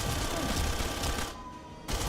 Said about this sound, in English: Oh, Neil, walking in front of my fucking gunshot so you can absorb it.